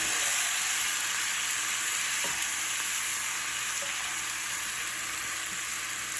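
Cabbage simmering in a pan with about three-quarters of a cup of added water for lo mein, giving a steady, even sizzle and bubbling hiss throughout, with one brief utensil tap partway through and no talking.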